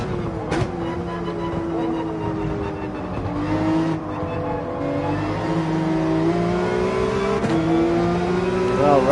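Subaru BRZ race car in Gran Turismo 7 lapping the Laguna Seca circuit, its engine droning steadily and rising and falling in pitch through gear changes and corners, loud and continuous throughout.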